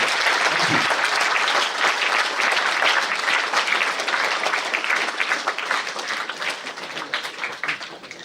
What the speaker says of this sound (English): Please don't be a miser when it comes to clapping.